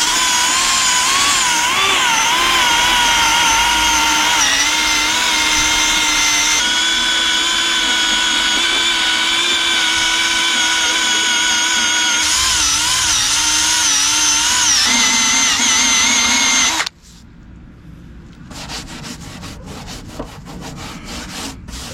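Steady, loud abrasive rubbing on a car body as excess glue is worked off after emblem removal, a continuous harsh scrubbing with shifting pitch that stops abruptly near the end, leaving quieter background noise.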